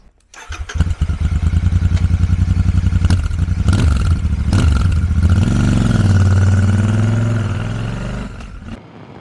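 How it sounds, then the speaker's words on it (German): A Royal Enfield Super Meteor 650 motorcycle starts and pulls away, its engine catching with a sharp clatter and then settling into a steady, loud, throbbing idle and rev that swells before cutting off. "Beim Wegfahren bekommt man schon mit, dass die Klangkulisse großartig ist"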